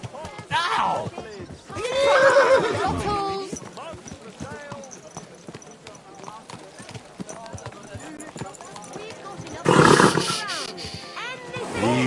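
A horse in the medieval video game Kingdom Come Deliverance 2 snorts and whinnies amid clip-clopping hooves on a town street, the bursts loud and close at the start and again near the end, with a game voice talking between them.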